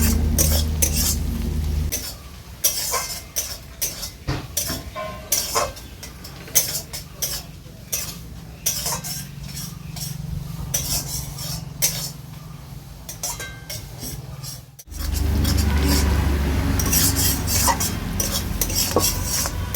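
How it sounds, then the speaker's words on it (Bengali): Onion and garlic frying in a pan are stirred with a utensil, giving steady scraping and clinking over a constant sizzle, with a louder burst of frying near the end. "পেঁয়াজ আর রসুনটাকে ভালো করে নেড়ে চেড়ে নেব যতক্ষণ না এর কাঁচা গন্ধটা চলে যাচ্ছে"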